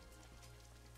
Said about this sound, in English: They got that the screen gets wet in the rain effect.